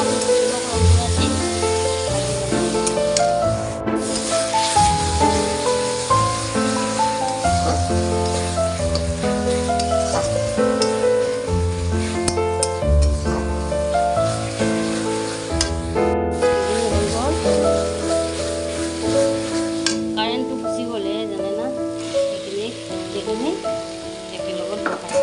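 Chopped tomatoes fry and sizzle in a pan for a soybean paneer dish, giving a continuous moderately loud crackling hiss with occasional scraping as they are stirred.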